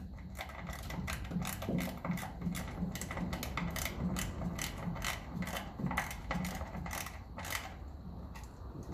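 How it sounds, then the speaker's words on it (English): A 1/4 inch socket ratchet tightens the timing cover bolts on a 1954 Ferguson 20 diesel tractor, giving rapid, steady clicking bursts close by with brief pauses between strokes and no talk. "The 1/4 inch socket now is the man for the job now"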